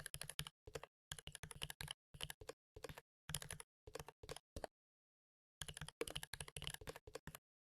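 Code being typed on a computer keyboard, quick bursts of close, crisp key clicks separated by short pauses and one longer gap, quiet and with no talking.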